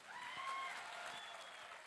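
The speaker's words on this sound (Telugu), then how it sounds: "పెద్ద ఎత్తున చప్పట్లు కొడదాం" Audience applause at a Vikarabad BRS party general body meeting: a steady, fairly faint wash of clapping from a crowd, lasting throughout without a break.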